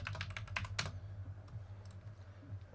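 Quick bursts of keystrokes on a computer keyboard, close and fairly faint, clustered in the first second and then tapering to a few scattered taps over a low steady hum.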